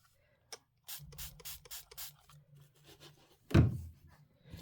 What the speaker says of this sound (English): Let me spray it a little more.